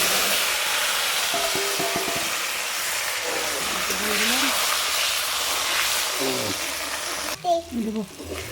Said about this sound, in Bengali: জিরা শুকনো লঙ্কা ফোড়নে দিচ্ছি